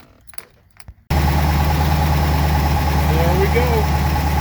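A Studebaker Avanti engine, given starter fluid so fuel reaches the carburetor, catches after a short quiet stretch with talking and then idles loudly and steadily to the end.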